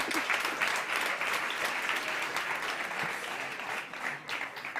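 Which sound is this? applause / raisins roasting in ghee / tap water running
applause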